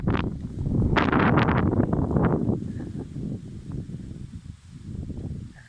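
Cold-season wind gusts across an open rural farm with a fish pond, buffeting the microphone in a loud, rushing swell that peaks early and then eases into steadier, softer gusting.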